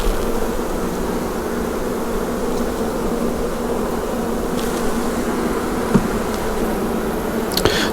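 Honey bees swarm around an open hive with brood frames, giving a dense, continuous buzzing drone that stays close and steady throughout. A few faint clicks and taps sound near the end, and no one speaks.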